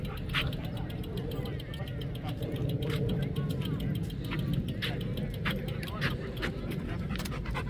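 A dog at a dog park pants in quick, rhythmic breaths close by. Low traffic or engine noise runs underneath throughout.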